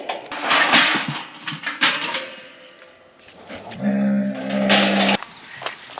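Cattle on a farm with calves penned in a corral, one animal letting out a low, drawn-out moo near the end among rustling and shuffling noises at close range.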